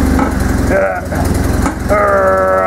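A homemade dune buggy's small engine idling roughly while the driver tries to shift into gear with a faulty clutch, a loud nearby putter with uneven revs and brief pitch rises.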